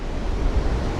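Sea waves washing onto a beach, a low rumbling surf mixed with wind buffeting the microphone, steady and fairly loud.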